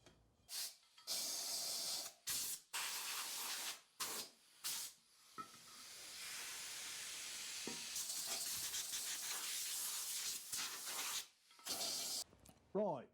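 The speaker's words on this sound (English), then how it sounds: "we'll give that a blow out with the airline" A compressed air line blows out a motorcycle wheel in repeated loud hissing bursts, several short blasts and then a long sustained rush, close up with no talking.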